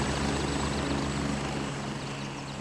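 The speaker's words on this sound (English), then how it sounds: "pardon me for helicopter noise, but I do not have any control over." Helicopter in the video game Gray Zone Warfare, a steady rotor thump and engine drone that stays loud and continuous, with no voices.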